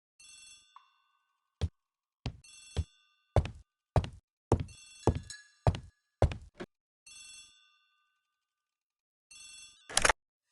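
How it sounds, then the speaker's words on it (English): Old-fashioned telephone ringing in a hallway in the ABC Murders video game, several bursts of bright bell trills spaced by silences, mixed with sharp thunks, close and clear without talk. "The telephone in the hall is ringing."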